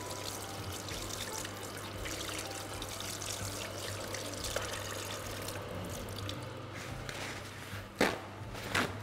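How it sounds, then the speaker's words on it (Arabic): Hands being washed under a running kitchen tap during home cooking, a steady close stream of splashing water with a couple of sharper splashes near the end. "نغسل يديا توا نشللهم"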